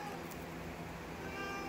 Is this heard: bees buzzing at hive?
no